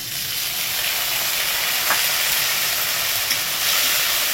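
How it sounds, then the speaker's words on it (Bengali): Tomato and slit green chilies fry with onion in a pan, a dense, steady, loud hiss of sizzling oil that runs without a break, heard up close with no talking. "আর নিয়েছি কয়েকটা কাঁচা লঙ্কা চিড়ে, সব একসাথে ভেজে নেবো।"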